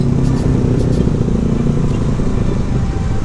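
Loud vehicle exhaust in traffic near the Baranangsiang toll gate on Jalan Pajajaran, Bogor, a steady broad rumble of engines throughout with no gaps.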